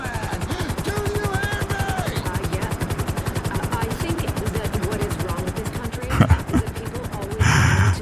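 A helicopter in the video game Grand Theft Auto V, lifting a heavy locomotive: a loud, rapid, steady rotor thumping that runs throughout, broken near the end by a brief clatter and a burst of noise.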